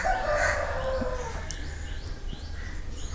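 A rooster crows once at the start, a loud stretched call that fades out, followed by faint bird chirps in the background.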